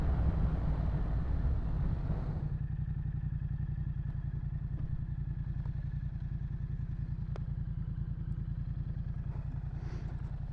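Yamaha MT-07 motorcycle from 2015 with a titanium Akrapovic exhaust idles steadily, its low, even thrum continuous after a brief louder opening, heard close and alone with faint wind.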